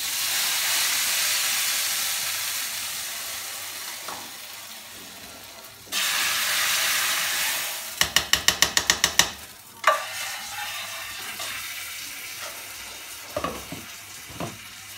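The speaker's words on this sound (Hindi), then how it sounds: "अब कढ़ी को डाल देंगे" Kadhi goes into a hot pan with a loud hissing sizzle, followed by a rattling burst of stirring or scraping and softer bubbling and clinks as it settles.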